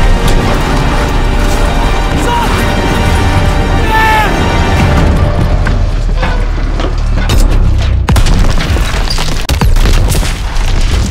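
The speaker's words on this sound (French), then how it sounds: "La destruction du train donne ici l'opportunité à Sledgehammer Games de nous proposer leur définition du mot « démesure »" An armoured train is destroyed in Call of Duty: WWII: a loud, continuous rumble of explosions and crashing metal, with heavy booms and sharp cracks layered over dense blast noise that stays intense from start to finish.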